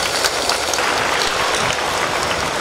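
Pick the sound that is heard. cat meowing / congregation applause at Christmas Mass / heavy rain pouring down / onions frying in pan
congregation applause at Christmas Mass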